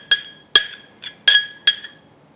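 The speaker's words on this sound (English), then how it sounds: "So I am going to put these berries in here" Berries dropped into a glass container make five sharp, separate clinks in irregular rhythm, close and clear against near silence.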